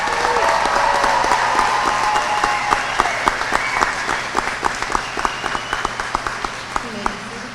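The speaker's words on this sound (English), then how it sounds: "Family, friends, and faculty in this room, please give them a big round of applause." An audience of family, friends and faculty applauds at a spring college commencement ceremony, with dense, loud clapping filling the hall. It thins toward the end to scattered individual claps and crowd murmur.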